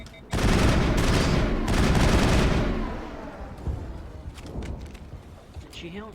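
Heavy shotgun and mixed gunfire in the sci-fi video game Mass Effect, a loud dense burst of shots that fades into scattered bursts and echoing impacts, with people talking over it.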